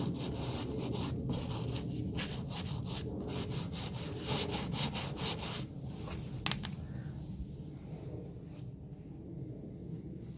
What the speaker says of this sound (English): ingrained dirt can sometimes lift a little easier with a brush